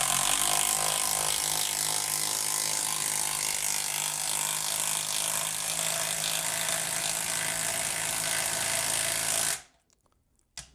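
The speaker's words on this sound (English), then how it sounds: "The Impact drove it all the way in" Milwaukee M12 impact driver sinking a screw into wood, a loud continuous rattling hammer-buzz lasting about nine and a half seconds before cutting off abruptly into near silence.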